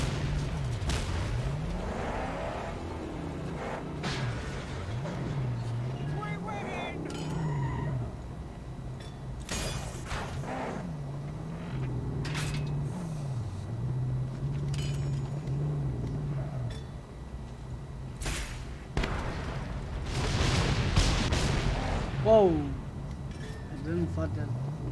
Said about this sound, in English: I didn't thought that there was gonna be that much explosion